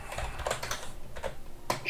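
Typing on a computer keyboard during a coding session: scattered clicky keystrokes in uneven bursts, close and moderately loud, with a sharper final tap and no talking.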